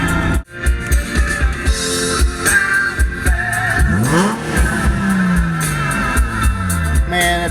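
A Nissan 350Z drives past loudly with engine revs rising and falling, shifting pitch through the gears, and a brief dip early on.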